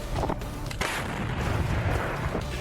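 Russian 2S7 Malka self-propelled gun firing shells in succession, heavy booming blasts and rumbling reports filling the whole stretch loudly and steadily, with no voices.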